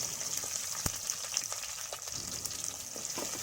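Small shallots with whole spices frying in oil in a pan for egg gravy, a steady close sizzle with occasional sharp pops and stirring clatter.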